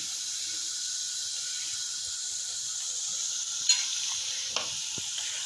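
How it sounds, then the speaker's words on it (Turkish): Continuous bubbling sizzle of dough frying in very hot oil, steady and close, with a couple of brief clinks partway through and no talking. "Yağım bayağı kızgın. Hatta bir tane daha şuraya koyabilirim."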